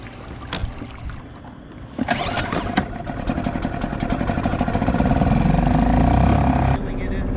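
An outboard boat engine on a fishing boat off Half Moon Bay is cranked and catches, building into a loud, steady running drone that holds for several seconds, with wind and water noise around it.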